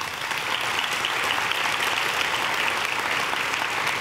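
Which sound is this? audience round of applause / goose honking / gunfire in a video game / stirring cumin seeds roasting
audience round of applause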